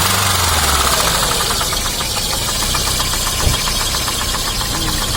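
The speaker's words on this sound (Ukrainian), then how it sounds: "Клапан не відрегулірований." Daewoo Sens engine knocking from an unadjusted valve, a fast steady ticking clatter over a loud close idle that holds even throughout, with no talk.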